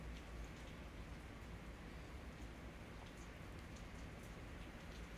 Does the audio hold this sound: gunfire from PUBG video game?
no